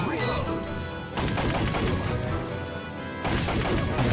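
Rapid light-gun shots in a retro video game crackle in dense bursts, nearly continuous across the clip, with brief dips before fresh volleys resume.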